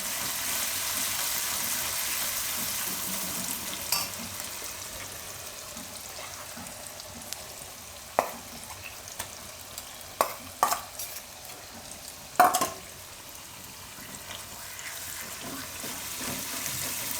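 A steady soft sizzle of oil on a low flame while a spoon stirs amla chutney, with a few sharp clinks against the pan now and then.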